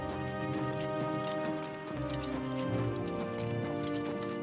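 Hooves of a guard's horse on the road in the video game Oblivion Remastered, a steady clip-clop rhythm under a loud, dense music bed.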